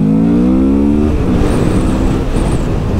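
A Moto Morini Seiemmezzo SCR motorcycle engine rises in pitch as it accelerates hard, then roars loud and close with rushing road and wind noise.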